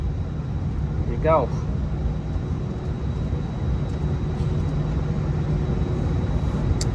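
Airliner engines drone steadily and loudly as passengers exit the plane after landing, a constant broadband roar with a brief voice near the start.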